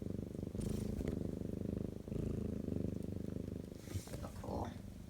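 Loud, close purring from a mother cat nursing 11-day-old kittens, a steady pulsing rumble throughout, with a voice talking softly over it near the end.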